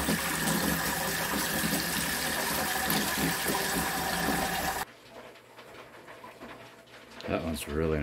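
Water runs steadily and loudly while tumbled stones are rinsed from a Lot-O tumbler barrel, then cuts off abruptly, leaving quieter handling clatter and a brief voice near the end.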